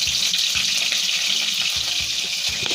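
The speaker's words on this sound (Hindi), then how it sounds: "अब हम डाल देंगे कढ़ाई में मिर्च," Chillies hit hot oil left in a wok after frying mushroom pakoras, giving a loud, steady hiss with soft clatter and stirring knocks underneath, close and continuous with no talk.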